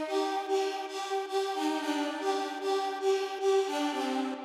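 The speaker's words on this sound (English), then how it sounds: "I also added this very heavily reverbed lead sound" A soft synth lead melody with heavy reverb drifts slowly with a washy reverb tail, sustained tones blending into a quiet ambient haze, made in FL Studio for a chill piano beat.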